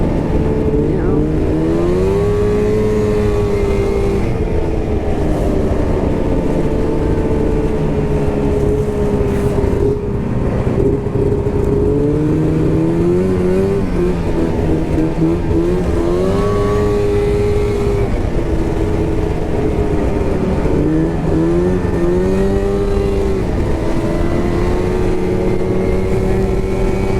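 Snowmobile engine running steadily on groomed New Hampshire trails, a continuous loud motor drone whose pitch rises and falls gently with throttle throughout, close and constant with no talk.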